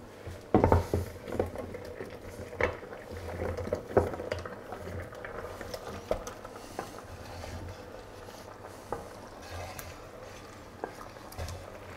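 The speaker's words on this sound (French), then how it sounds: "On va rajouter les pommes de terre." Potatoes go into a pot of Irish stew: scattered soft thumps and clatters of pieces and a utensil against the pot, with light bubbling and stirring, fairly quiet and close.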